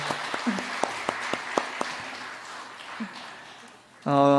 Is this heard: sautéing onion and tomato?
no